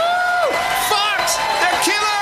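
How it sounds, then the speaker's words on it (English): A bloodthirsty crowd cheers, whoops and shouts together in a dense, loud roar, with individual voices rising and falling over the steady din. "Listen to the crowd. Oh, the crowd is bloodthirsty."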